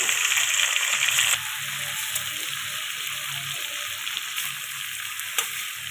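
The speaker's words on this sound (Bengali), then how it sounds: "গলদা চিংড়িগুলো ভেজে নিচ্ছি" Giant river prawns, salted and turmeric-rubbed, fry in hot oil with a loud, dense sizzle that is strongest at the start and then settles into a steady crackling hiss, close up with no voices.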